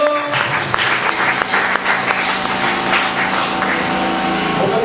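A church congregation at a Sunday service applauds the Lord with loud, steady, dense clapping that fills the room without a break.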